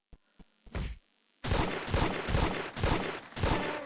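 A few faint clicks open the sequence, then a short burst, followed by five loud, evenly spaced gunshots in a Roblox game, each sharp and close, with no talk.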